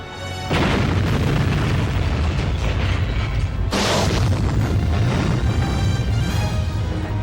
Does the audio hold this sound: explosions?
yes